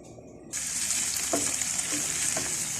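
Onions fry in hot oil as a garnish for a quail kabsa. After a brief quieter moment, a loud, close sizzle begins and holds steady, broken by a few stirring knocks.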